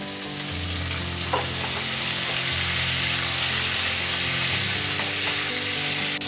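Boiled amla pieces fry in a pan with salt, turmeric and panch phoron, giving a loud, steady sizzle with a few stirring scrapes and no voices.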